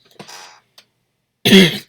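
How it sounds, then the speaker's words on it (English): A few coughs close to the microphone: a weaker, breathy cough first, then a sharp, louder cough after a short pause. "I've gotten really good at coughing in the last 2 years"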